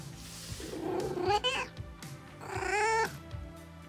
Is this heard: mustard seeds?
no